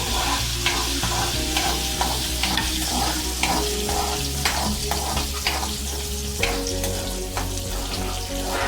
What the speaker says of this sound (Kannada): ಸಾಸಿವೆ ಒಂದು ಚಮಚ ಚೆನ್ನಾಗಿ ಹುರ್ಕೋಬೇಕು